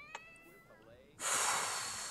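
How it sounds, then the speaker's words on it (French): Cats in The Sims 4 meowing loudly: a faint meow first, then a loud, drawn-out yowl that fills the second half, with a bit of faint background sound under it. "entre les chants et les chats qui font que gueuler"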